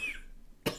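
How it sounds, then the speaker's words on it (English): A single short, sharp cough bursts out near the end after a faint breathy sound, quiet and close. "I'm coughing like mad."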